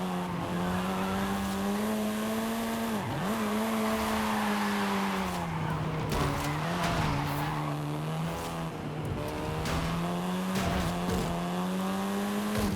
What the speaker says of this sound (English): This version is the Volkswagen Golf R meaning race.